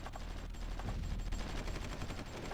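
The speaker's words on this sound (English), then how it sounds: "Oh right, we're taking fire." Rapid gunfire from combat units in the strategy video game Supreme Ruler Ultimate, a dense, continuous crackle of shots like machine-gun bursts at moderate loudness, with no voice over it.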